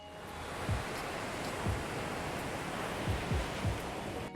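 Beach waves from a stock sound-effects library wash in steadily as broad surf noise, with soft recurring low thumps of breaking water, fairly close and with no voices.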